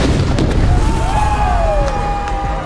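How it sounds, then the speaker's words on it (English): A fireworks show explosion booms loudly with a dense rumbling roar, crackling bursts and whistling tones sweeping through, all sustained over a few seconds at close range. "Here comes the biggest explosion yet."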